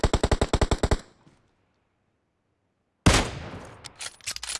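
Rapid burst of about nine sharp gunshots in Battlegrounds Mobile India, then a second of silence before another loud burst of firing with scattered trailing shots.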